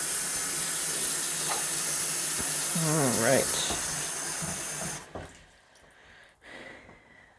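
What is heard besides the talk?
water running from sink faucet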